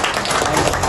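An audience applauds a two-wheeler giveaway winner, with dense, continuous clapping at a steady level that fills the whole brief moment.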